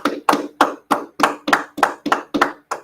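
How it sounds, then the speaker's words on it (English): About ten sharp hand claps land in a steady, even rhythm, close and clear, from people gathered for a class session; no talking over them. "Clap it up, everybody."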